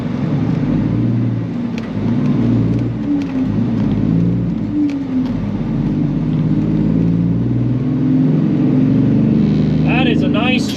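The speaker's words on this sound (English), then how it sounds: "You guys need to check out this sweet W9 right here." A Kenworth W900 truck's engine rumbles low and steady throughout on a rainy, muddy trucking route, while someone talks over it the whole time.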